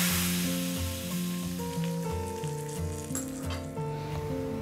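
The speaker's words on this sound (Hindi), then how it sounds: "तड़के को हम दाल में डाल देंगे।" A hot tadka of oil and spices, finished with red chili powder, hisses and sizzles steadily as it is poured into cooked masoor dal, with background music playing throughout.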